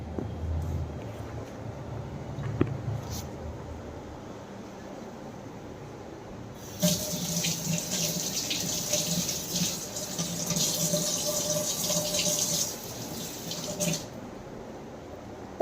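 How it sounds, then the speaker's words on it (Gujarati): Tap water runs steadily over mangoes in a home kitchen sink, a close splashing gush starting partway through and continuing for several seconds before cutting off. "તો ફ્રેન્ડ, સૌથી પહેલા આપણે મેંગોને વોશ કરી લઈશું."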